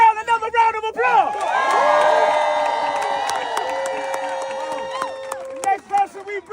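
A live crowd at a performance event cheers and whoops loudly after a call for applause, a sustained roar of voices and shouts that swells and fades over several seconds, with a voice speaking before and after.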